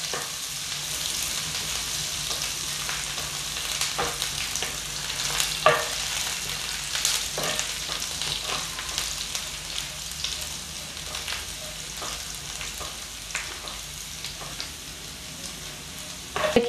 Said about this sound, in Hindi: अब इन सबको गोल्डन ब्राउन होने तक भुनेंगे।